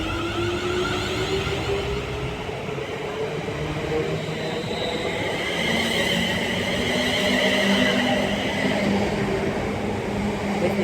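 A Class 360 electric train pulls out of Colchester station bound for Clacton, its motors whining up in pitch as it accelerates, with rumbling wheels and a rising, sustained roar close by.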